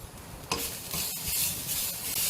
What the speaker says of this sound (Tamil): எண்ணெயெல்லாம் சேர்க்காம அதை ரோஸ்ட் பண்ணணும்.